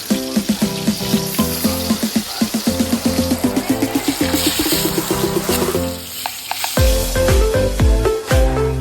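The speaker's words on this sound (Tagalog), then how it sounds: "Iprito natin ang talong na kalimutan kasi ulyanin na." Eggplant frying in hot oil for kare-kare sizzles loudly and steadily at close range, with rhythmic stirring or tapping of a utensil in the pan and a fresh burst of sizzling near the end.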